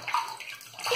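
Water splashes and runs briefly while lather is rinsed off a face after a shave, a close, loud rushing burst that swells and fades within a second.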